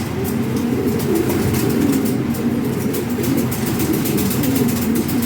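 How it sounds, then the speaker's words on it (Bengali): A pair of grizzle pigeons in a loft, heard as a steady, dense murmur of cooing and flock rustle throughout, with no talking. "এখানে টপ কোয়ালিটি এক পেয়ার গ্রিজেল আছে"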